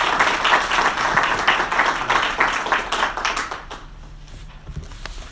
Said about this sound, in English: let's give Judge Clarke a big round of applause